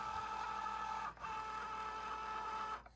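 A Cricut cutting machine automatically feeds a sheet of vinyl, giving a steady close mechanical whir with two brief pauses as the rollers stop and restart.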